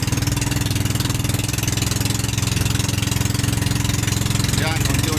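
Loud, close boat motor droning with a rapid steady pulse, rising slightly in intensity over a few seconds on a calm sea.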